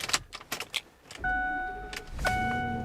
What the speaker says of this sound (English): grab our keys